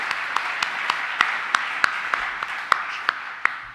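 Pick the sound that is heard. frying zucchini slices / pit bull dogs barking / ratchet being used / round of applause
round of applause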